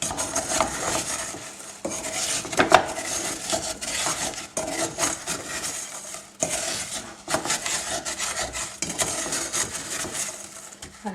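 Sugar-coated pralines scraped and stirred in a saucepan, a steady rasping of utensil against metal in bursts with brief pauses, close and fairly loud with no talk.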